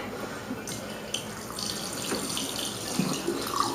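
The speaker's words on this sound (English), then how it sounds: "just doing a couple swishes of clean water" Black walnuts swished in a container of clean rinse water, a steady sloshing, running-water wash with a few splashy accents close by.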